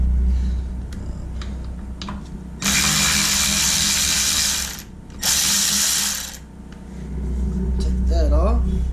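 A ratchet loosens the 10mm hose retainer on a 2008 Suzuki M109R during rear wheel removal, producing two loud bursts of rapid clicking separated by a pause, close to the microphone with a low hum underneath.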